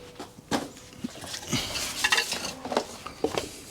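Soft, stripping screws being worked loose from scrapped audio-visual equipment, with scattered close scraping and creaking clicks and light metallic clinks in short irregular bursts.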